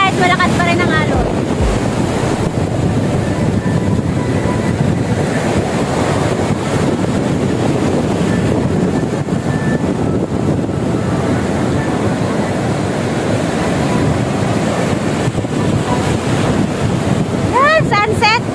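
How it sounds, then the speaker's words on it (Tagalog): Heavy surf rolls in steadily at a Da Nang beach in Vietnam, loud and close, with strong wind roaring across the microphone the whole time and only faint traces of voices. "4:30 na yan guys, malakas pa rin ang alon."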